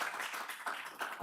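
At a regional health forum, a small audience claps briefly and unevenly, the individual hand claps distinct and fairly close, with no voices over them.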